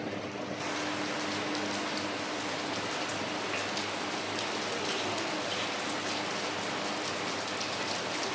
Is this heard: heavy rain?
yes